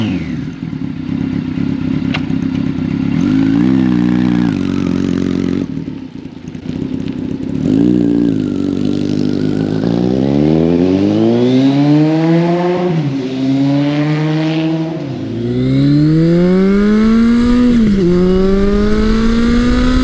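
A 1981 Kawasaki KZ1000 motorcycle ridden on the open road, its engine loud and close, revving up through the gears with rising pitch, brief dips at each shift, then pulling hard again.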